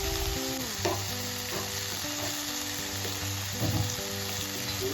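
Mixed vegetables frying in oil tempered with a bay leaf, green chili and panch phoron give a constant close hiss and sizzle, with faint background music and occasional soft crackles.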